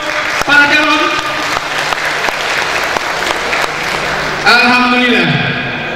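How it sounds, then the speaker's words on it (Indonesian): Audience applause for the five mayoral candidates at a 2015 public debate for mayor and deputy mayor of Dumai, a steady wash of clapping lasting throughout, with an announcer's voice carrying over it. "Tepuk tangan untuk para calon."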